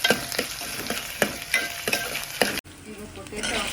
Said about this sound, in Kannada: ಈಗ 1 ಈರುಳ್ಳಿ ಹೆಚ್ಚಿಟ್ಕೊಂಡಿದ್ನಲ್ಲ, ಇದು ಹಾಕ್ಕೊಳ್ಳೋಣ. ಸ್ವಲ್ಪ ಫ್ರೈ ಮಾಡ್ಕೊಳ್ಳೋಣ.